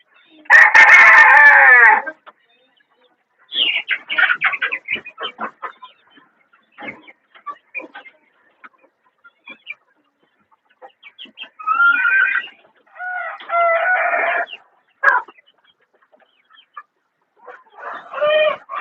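Village gavran chickens and roosters on a poultry farm in Shrivardhan: a loud nearby crow opens, followed by scattered clucks and further crowing bursts from several birds at varying distances, with quiet gaps between.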